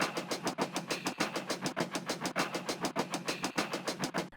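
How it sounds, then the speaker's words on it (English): Choppy acoustic hi-hats in a house track, a fast, steady run of crisp short hits repeating in a tight rhythmic loop over a low pulsing bed, close and fairly quiet, with no talking. "I added some like kind of choppy acoustic hi-hats that sound like this."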